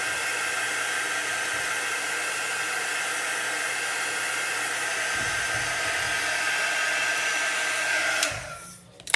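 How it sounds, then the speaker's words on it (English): A hair dryer blows steadily on wet chalk paste, a loud, even whoosh that runs without a break for about eight seconds. Then it cuts off abruptly and the sound falls away. "So I'm just going to dry them so I don't ruin any of them."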